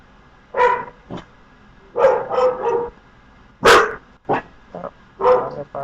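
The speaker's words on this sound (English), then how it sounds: "Oh, they're barking." A dog barks in short, loud bursts at close range, several separate barks and yips spread unevenly, heard indoors with no talking over them.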